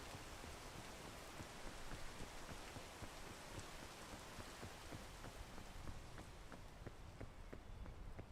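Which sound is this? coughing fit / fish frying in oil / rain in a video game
rain in a video game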